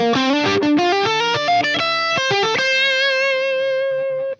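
Heavily distorted electric guitar through a Soldano SP77 tube preamp plays a short riff of chugging notes and chords, ending on a sustained, buzzing chord that cuts off abruptly.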